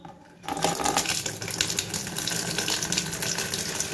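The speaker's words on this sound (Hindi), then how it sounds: "ये टब में पानी खोल दिया" A water tap turned on and running steadily into a tub, a continuous loud gush that starts abruptly after a brief quiet moment and keeps flowing without talk.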